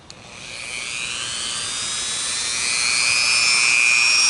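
A handheld moto tool rotary drill spins up with a high, thin whine that climbs steadily in pitch and loudness over a few seconds, running alone at close range.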